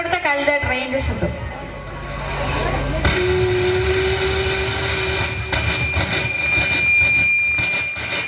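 A performer's voice imitates a modern train, opening with a few sharp bursts and then a steady, loud rumbling roar with a sustained whistle-like tone, all produced by mouth at close range.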